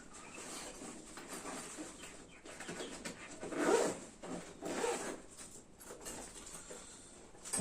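A zipper on a small handbag-style pouch, packed inside a Bosch MUM5 kitchen machine box, is pulled open in a few quick rasping strokes at close range, with no voices.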